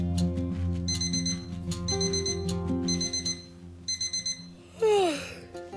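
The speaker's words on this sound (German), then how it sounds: "Mein Wecker hat gerade schon geläutet." An alarm clock rings in repeated electronic beeping bursts, loud and close, with a rising whooshing sweep near the end and no talking.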